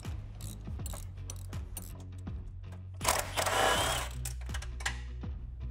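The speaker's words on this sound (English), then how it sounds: "a couple of wrenches that we're going to need to start taking off the strut bolt" Wrench ratcheting on the strut tower nuts of a 2003 Ford Mustang GT, a rapid run of close metallic clicks with short pauses and a louder burst of mechanical clatter in the middle.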